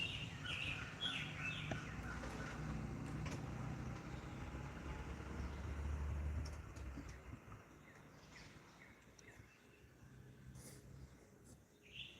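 Birds chirping outside a house on Bull Shoals Lake, scattered faint tweets over a low rumble of passing vehicles, thinning out toward the end.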